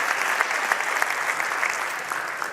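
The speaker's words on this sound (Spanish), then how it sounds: "Alex Fuster, un aplauso, por favor, para él." Steady, dense applause from a conference audience at an annual strategy event, loud and sustained throughout without pause.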